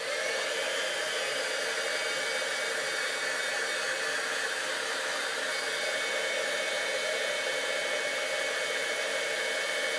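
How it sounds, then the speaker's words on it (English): An embossing heat tool blows hot air steadily and loudly for the whole stretch, a constant broadband whoosh with no talk over it. "I'm going to bring in my heat tool and I'm going to heat it up,"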